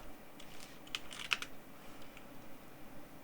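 Quiet computer keyboard typing as payment details are entered, a few soft, scattered key clicks at close range against a low background hiss.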